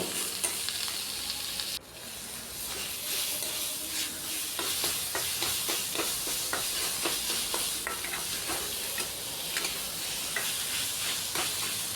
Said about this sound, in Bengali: এই কারকুলের বিচিগুলা দিয়েও খুব ভালো করে পুরটাকে এখন ভেজে নেব